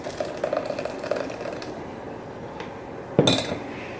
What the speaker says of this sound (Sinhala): දැන් මම මේ මගේ භාජනයට මේක පෙරලා ගන්නවා.